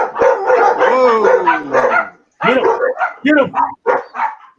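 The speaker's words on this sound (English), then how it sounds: "I got a house full of dogs." Several dogs in a house, pit bulls among them, bark and howl loudly and continuously, with a drawn-out howl early on, while people shout excitedly over the racket.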